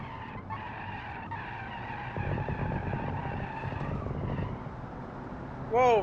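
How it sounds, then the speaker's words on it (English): A 1970s Soviet car slides through a drift in the video game Automation, tires skidding with steady squealing tones over a rough engine roar, ending in a brief sharp warbling squeal. "Whoa, very easy car to drift."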